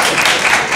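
A brief, dense burst of audience applause from a crowd of many hands, loud and close, filling the whole moment without a break.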